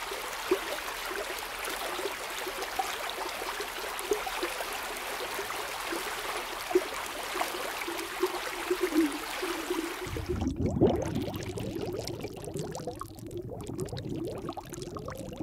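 Coral reef aquarium water sounds, a continuous bubbling, streaming wash that runs steadily throughout, then shifts to a lower, fuller gurgle near the end, with no voices.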